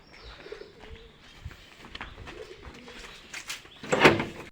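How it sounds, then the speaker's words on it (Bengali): Domestic pigeons coo in low, repeated throaty calls from perched birds nearby, with a brief burst of fluttering or rustling near the end. "এই যে আমরা আমাদের কবুতরের খাবার নিয়ে আসলাম, আর দেখুন এই যে সব কবুতর এখন উপরে বসে আছে।"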